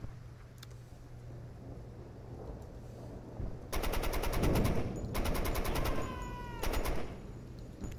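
Bursts of rapid automatic machine gun fire ring out during a bridge assault in the tactical video game Door Kickers 2, with two sustained volleys and a shorter later burst over a steady noisy game backdrop.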